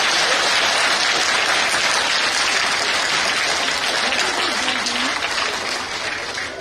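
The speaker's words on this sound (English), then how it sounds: "this talented and animated team surely deserves a big round of" A school audience at a Founder's Day function gives a sustained round of loud, dense applause that continues evenly for several seconds and fades slightly at the end.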